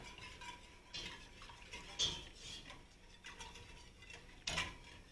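Flour and oat milk being whisked together in a bowl, soft scraping swirls broken by a few sharper clinks of the whisk against the bowl, faint and close with no talking.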